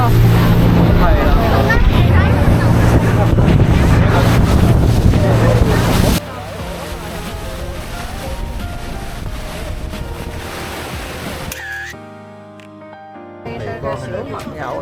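A fast boat speeds across the sea off Okinawa, with loud wind buffeting and engine and water rush dominating the first half, then a softer, steadier drone; voices talk over it.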